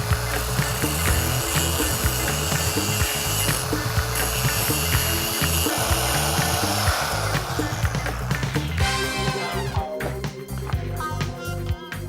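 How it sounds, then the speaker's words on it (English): Grinder biting into the tops of two motorcycle chain link pins, a loud harsh continuous grinding with rapid rattling and pitch changes, close up and uninterrupted, ending in a sharper screech. "we're going to grind the top off 2 pins there, and then we're going to drive the link out"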